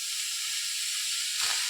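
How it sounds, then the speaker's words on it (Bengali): Steam hisses steadily from a pot of mutton do pyaza on the stove, a constant bright, close rush of vapor with a brief low bump near the end. "তো স্টিমটা আমি কমিয়ে নিয়েছি।"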